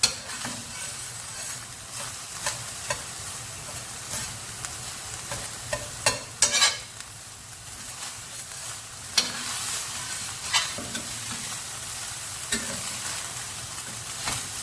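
Beef and pork mince fries over high heat in a hot pan, a steady loud sizzle throughout with occasional stirring scrapes and clinks, no talking.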